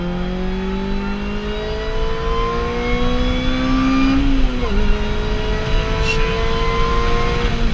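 A supercharged Honda Civic Si FA5 engine revs up steadily and loudly, pitch climbing into the VTEC range with a brief dip, then keeps pulling with supercharger whine layered over the exhaust.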